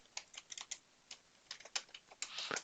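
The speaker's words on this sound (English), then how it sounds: "maybe I should type it here" Someone types on a computer keyboard in a quiet room, with a close, irregular series of light key clicks in short runs and no talking.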